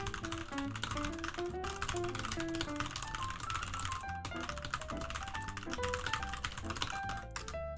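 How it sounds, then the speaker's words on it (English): Rapid computer keyboard typing during an impromptu typing test: a dense, steady clatter of keystrokes running the whole time beneath louder tuneful background music. "Impromptu typing test? Right now?"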